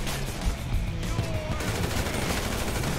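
Gunfire in Grand Theft Auto 5: a dense, steady rattle of rapid shots that fills the whole moment at an even loudness, with no pauses between bursts.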